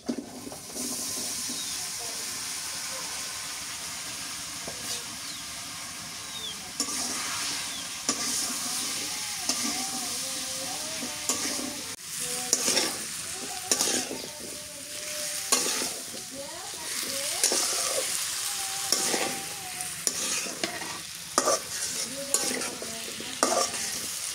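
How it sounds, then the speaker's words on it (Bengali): Vegetables fry in a hot pan for a Bengali shukto dish while being stirred, giving a continuous sizzle broken by repeated scraping and clattering strokes of the spoon, close by and moderately loud throughout. "শুক্তি কষানো হয়ে গেছে, তরকারি দিয়ে দিই"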